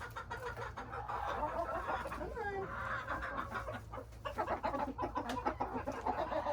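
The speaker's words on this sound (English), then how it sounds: "So this is the rooster" A rooster on a ranch clucks in short, close calls over a low background of other farm noise and faint voices.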